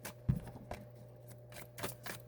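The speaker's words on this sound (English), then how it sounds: "So let me shuffle a minute." Tarot cards being shuffled, giving a few quiet papery riffles and soft slaps spread over a couple of seconds. The sound is faint and close, with a steady low hum behind it and no talking.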